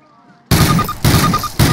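Call of Duty gunfire: a short burst of loud, close weapon blasts in three chunks, each reverberant and dense, after a brief quiet lead-in.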